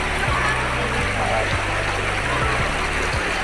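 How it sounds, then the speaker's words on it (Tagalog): A flowing river near riverside cottages, with a steady broadband rush of water filling the scene, close and constant, with occasional low thumps beneath it. "Ang ganda po ng ilog dito."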